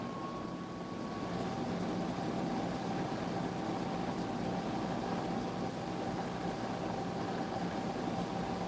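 Wood lathe with a rough-gouged blank speeding up from about 350 to roughly 670 RPM, a steady mechanical whir and hum holding at moderate level throughout, with no talking.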